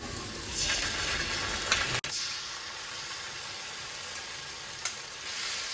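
Oil sizzles steadily in a pan as chopped onion fries while cooking mustard pabda fish curry, with a brief clatter near the middle and a small knock later.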